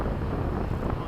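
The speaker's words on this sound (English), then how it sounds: "The wind's pushing us." Wind rushes across the microphone at a model-aircraft flying field during a Freewing jet chase flight, a brief steady low roar with no speech.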